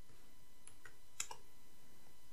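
A few sparse keystrokes on a computer keyboard, quiet and close, with gaps of near silence between the clicks.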